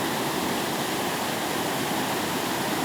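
A strong mountain stream near Szklarska Poręba, swollen after heavy rains, rushes past in a loud, unbroken roar of turbulent water heard close by.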